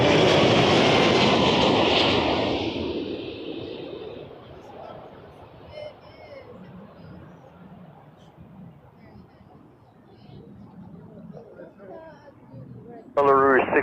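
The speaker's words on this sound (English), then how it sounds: "Heavy Airbus is landing ahead now" A heavy Airbus lands at Toronto Pearson airport, its loud engine roar fading gradually over several seconds into distant rumble, while radio air traffic control chatter runs underneath and returns abruptly at the end.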